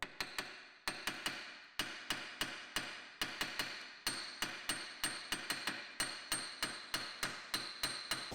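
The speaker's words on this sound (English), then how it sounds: "Just a few taps just to see if this is going to move or whether you're going to have to get something a bit more heavy duty." Steady metallic hammer taps on the drive shaft end of an Audi Q7, Touareg or Cayenne during a pressed wheel bearing job, a quick, regular rhythm of sharp ringing strikes, close and prominent with no talk.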